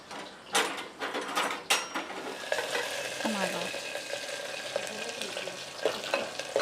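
Curry leaves sizzle in hot frying oil while being stirred, with steady crackling hiss, a few sharp clinks of a utensil against the pan near the start, and continuous moderate frying texture throughout.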